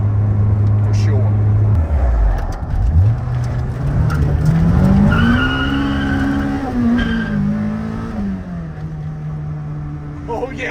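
A 1995 Acura Integra GSR fitted with a JDM ITR transmission revs hard in third gear, its loud, close engine note climbing steadily in pitch and then leveling off, with an earlier drop in revs near the start.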